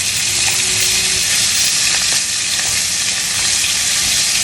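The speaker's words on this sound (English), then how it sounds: "you just want to keep basting this while it cooks on the other side" A pork steak fries in a hot pan while butter, garlic and rosemary baste it. A loud, dense, constant sizzle fills the whole stretch, with faint clicks of basting under it and no voices.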